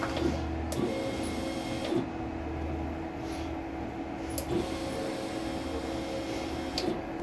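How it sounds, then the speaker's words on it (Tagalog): DTF printer running a nozzle check, a continuous mechanical hum with a low drone and faint regular clicks and ticks as the print head carriage moves, steady throughout with no talk. "Nozzle check."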